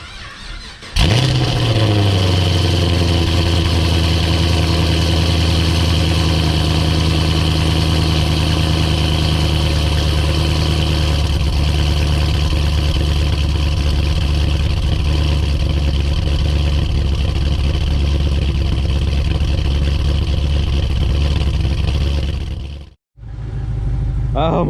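A Chevrolet SS car engine starts with a sharp catch and settles into a loud, steady, rumbling idle that holds close and even for over twenty seconds before cutting off abruptly, set out in snow.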